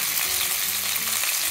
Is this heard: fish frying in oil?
yes